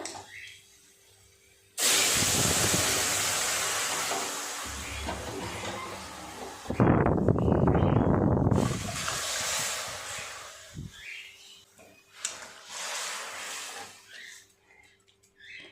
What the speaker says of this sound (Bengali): খুব সুন্দর টকবক করে ঝোলটা ফুটছে